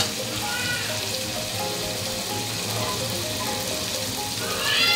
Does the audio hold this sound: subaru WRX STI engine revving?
no